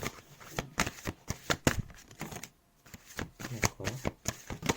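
Oracle cards are shuffled for a reading, giving a close run of rapid riffling flutters and soft taps, with a brief pause in the middle before the shuffling resumes.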